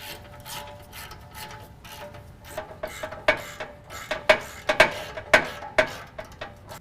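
A 15 mm ratchet loosens exhaust band clamps behind the muffler of a 2014 Ram 5.7 V8. Faint clicking runs through the first half, then a series of sharp, close metallic clicks and clanks arrives in irregular bursts.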